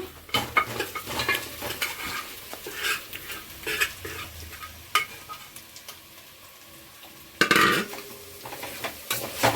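Marinated goat trotter pieces tipped into a cooker for paya curry and mixed: uneven clatters and scrapes of a spoon against metal with a light sizzle underneath, close, plus one louder thud of pieces dropping in.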